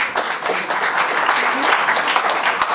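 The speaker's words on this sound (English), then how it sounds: "Loud round of applause for Shubha" A crowd at an inauguration ceremony in Mysuru gives a warm round of applause for Shubha: dense, even clapping that holds strong for about three seconds.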